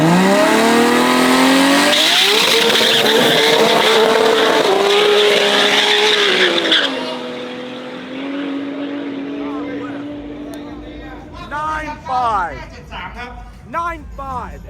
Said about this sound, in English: I'm really excited to see this car make a pass.